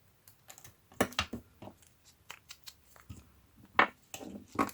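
Scissors snip through paper during a junk journal papercraft session, a run of short crisp cuts coming in uneven bursts, fairly close and alone with no talking.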